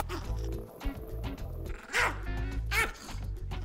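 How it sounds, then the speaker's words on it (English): A small Chihuahua gives a couple of sharp, high yips close by, spaced apart over a busy, noisy room background. "that's my friendly little Chihuahua"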